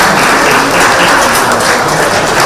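Sustained applause from an audience at an international bridge championship prize ceremony, a steady dense wash of clapping throughout, fairly loud and with no talk over it.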